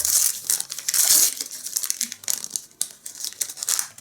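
Crinkling and tearing of packaging as a well-wrapped parcel holding hand-knitted mittens is unwrapped, with dense rustles and crumples running continuously and close, rising and falling in bursts with no talk.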